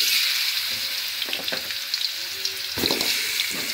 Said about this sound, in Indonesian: Kita tumis dagingnya sebentar.